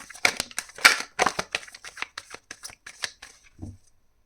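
Tarot cards being shuffled up close in a quick run of crisp riffling flicks and slaps, fading to a soft thump at the end.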